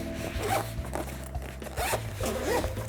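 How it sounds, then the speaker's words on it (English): Repeated zipper pulls along a BUBM three-piece travel tech bag set, several quick rasping strokes close up over a steady low background hum, with no talking. "you can just zip this up"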